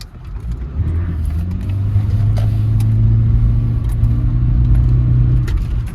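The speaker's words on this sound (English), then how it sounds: "when I put the foot to the floor, wide open throttle, the exhaust really starts to get loud" A Toyota Prius with a damaged exhaust, floored at wide open throttle, gives a loud, steady low droning rumble that swells and holds for several seconds before easing slightly, heard close with no talking.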